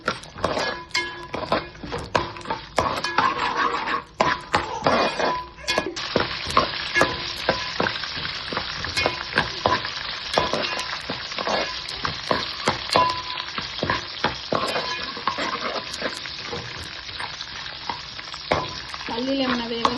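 Peanuts and cashews frying slowly in oil in a pan for gongura pulihora, a continuous crackling sizzle broken by frequent sharp pops and spoon clatters, close and fairly loud, with no voices.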